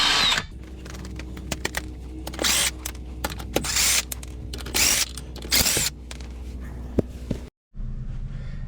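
Power tool whirring in several short bursts, loosening caliper bolts during a brake job on a Honda Accord, with clicks and mechanical knocks between pulses and a brief silence near the end.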